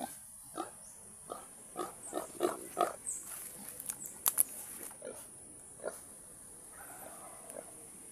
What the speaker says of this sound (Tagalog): Yan mga idol, ang ating mga baboy ramo, oh.